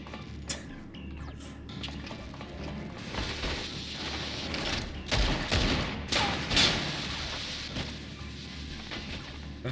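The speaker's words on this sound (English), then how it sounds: "You didn't hear those gunshots?" Rapid bursts of video game gunfire crackle over a dense rumbling backdrop, with a few louder shots standing out near the middle.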